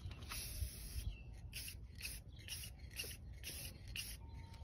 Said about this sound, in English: now we're gonna spray the snorkel.